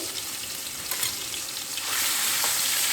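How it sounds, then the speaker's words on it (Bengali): Pieces of katla fish sizzle steadily in hot oil, a dense crackling fry that swells louder toward the end, with no voices. "এই মাছগুলো আমি ভাজবো।"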